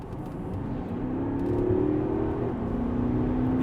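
A Porsche Panamera 4S with a remapped 4.0 V8 bi-turbo accelerating on kickdown, its engine drone rising steadily with a brief dip at a gear change, heard from inside the cabin with no talking.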